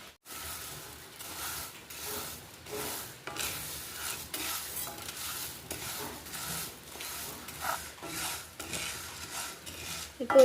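Lentils for Kerala-style parippu curry dry roasting in a pan, with steady scraping and stirring of a utensil against the metal, light clinks and a faint sizzle running throughout at moderate level, no talking.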